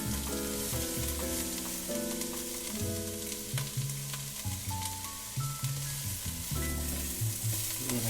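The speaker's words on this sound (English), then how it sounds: "We're going to caramelize all these vegetables first." Onions, carrots and parsnips sizzle steadily in a pan with meat for osso buco, a continuous frying hiss running the whole time beneath louder background music.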